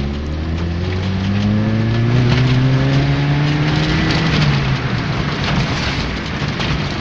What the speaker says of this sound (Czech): Můžeme si ukázat třeba, jak to zrychluje na tu dvojku při těch 20 km za hodinu.